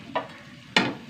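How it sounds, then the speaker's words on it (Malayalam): Onion, garlic, ginger and green chillies are stirred in a hot pan, producing two distinct scraping stir strokes over a soft background sizzle, the second one louder and nearer. "എല്ലാം കൂടിയിട്ട് നന്നായി വഴറ്റിയെടുക്കുക"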